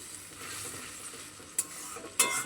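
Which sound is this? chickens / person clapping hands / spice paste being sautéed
spice paste being sautéed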